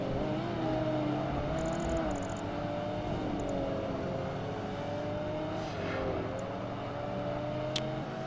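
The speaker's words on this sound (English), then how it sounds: "We can finally use 6th gear in the Porsche." A Porsche race car engine accelerating in sixth gear in Project Gotham Racing 2, a steady rising whine with tonal harmonics climbing slowly, loud and continuous.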